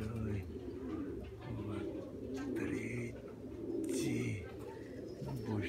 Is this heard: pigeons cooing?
yes